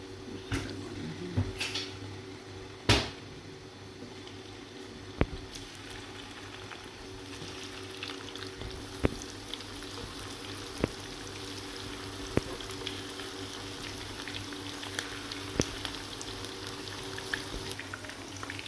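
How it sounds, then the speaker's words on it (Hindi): Gola kebabs frying in plenty of oil in a pan give a soft, steady bubbling sizzle, with scattered sharp clicks and taps throughout and a low background hum. "अब हम इसको फ्राई करेंगे"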